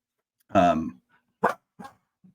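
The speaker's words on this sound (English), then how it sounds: "as Claire decides to start barking" A dog barks once loudly up close, followed by a few shorter, softer yips with pauses between them.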